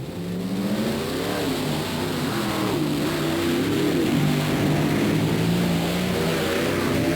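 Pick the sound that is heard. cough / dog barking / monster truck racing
monster truck racing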